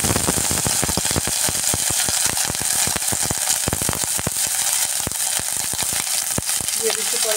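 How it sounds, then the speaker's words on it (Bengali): Chopped and whole onions frying in hot oil for an omelette curry, with a loud, continuous close sizzle broken by rapid crackling pops and the scrape of stirring. "কুচিয়ে রাখা পেঁয়াজ আর আস্ত পেঁয়াজগুলো এখন এর মধ্যে দিয়ে দিচ্ছি।"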